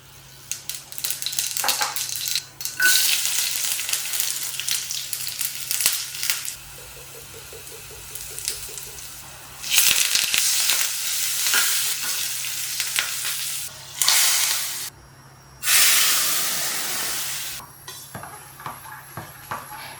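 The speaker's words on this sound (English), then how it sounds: "To make vagarne tadka, I have oil, mustard seeds, garlic cloves, hing, curry leaves" A tadka of oil, mustard seeds, garlic cloves, hing and curry leaves frying in a pan, loud bursts of sizzling and spattering that rise and fall with stirring, close and without speech.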